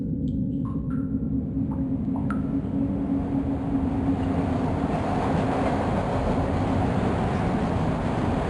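A train rolls along in the video game Broken Sword 2, giving a loud, steady rumble with a few light metallic clicks and squeals near the start.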